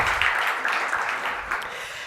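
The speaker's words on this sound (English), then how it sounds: "Let's clap for that." Audience applause at the Research!America 2019 Annual Meeting of Members, a steady, even wash of clapping from a crowd lasting a couple of seconds.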